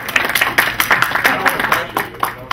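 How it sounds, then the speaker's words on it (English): A small audience at a Lakewood community meeting gives brief, light applause for a city council representative, a quick patter of separate claps with a voice talking over it. "you can clap for her"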